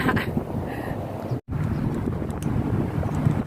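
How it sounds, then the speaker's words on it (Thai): Strong wind buffets the microphone outdoors on a walk, a continuous gusty roar with one abrupt brief dropout midway. "ลมแรงอากาศดี"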